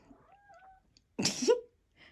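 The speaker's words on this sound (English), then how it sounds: "can you hear the kitty?" A house cat meows once, close and clear, in an otherwise quiet art studio, with faint background sounds before and a soft trailing noise after.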